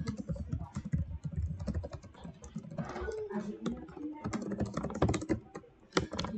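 Rapid typing on a computer keyboard, a busy stream of close clicks and key taps in irregular bursts with brief pauses.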